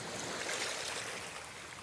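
Sea and beach ambience: a dense, steady wash of surf and water noise, fairly loud and continuous with slight swells, no voices.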